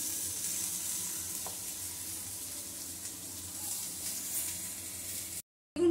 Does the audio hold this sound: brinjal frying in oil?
yes